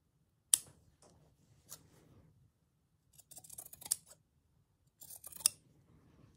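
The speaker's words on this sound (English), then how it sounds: "Let's just cut the rectangle." Scissors snip through linen fabric to cut out a small rectangle: three separate close, crisp bursts of snipping with short quiet gaps between them, in an otherwise hushed room.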